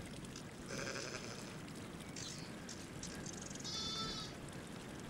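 Free-ranging goats on Fuerteventura bleat a few times, short wavering calls at moderate distance over a quiet outdoor background.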